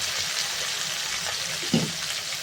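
Onions and tomato sautéing in a pan for sardine curry, a steady moderate sizzle with one brief stirring knock partway through and no voices.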